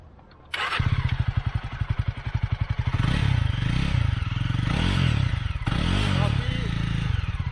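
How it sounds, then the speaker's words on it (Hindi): A Jawa 42 or Honda Highness CB350 motorcycle exhaust thumps at idle with a rapid, even pulse, then revs up and down several times, loud and close, with talk faintly underneath. "अब हम आपको सुनाते हैं इसकी साइलेंसर की आवाज़, यानी एग्जॉस्ट साउंड"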